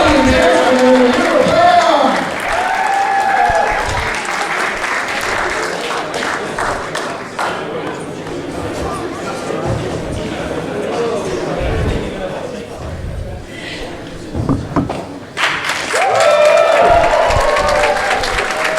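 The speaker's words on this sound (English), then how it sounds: "Big applause here for Amira Blair on the way out of the ring side area." Applause and cheering from a wrestling show crowd as an injured wrestler leaves ringside, loud at first, thinning in the middle, then swelling again, with an announcer talking over it.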